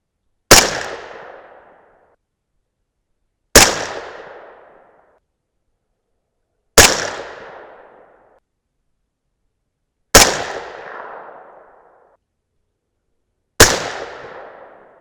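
Five loud, sharp rifle shots from a 6.5 Grendel firing 120gr Hornady ELD handloads, evenly spaced about three seconds apart, each with a crisp crack and a short decaying echo, alone with no talking.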